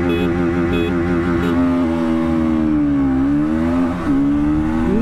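A 2024 Bajaj Pulsar NS200 BS7 and a KTM Duke 200 BS7 accelerate hard in a drag race, their engines whining and climbing in pitch with a brief dip at a gear change before rising again.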